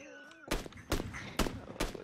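Gunfire in the video game PUBG Lite, four sharp separate shots spaced about half a second apart, loud and close, after a brief voiced sound at the start.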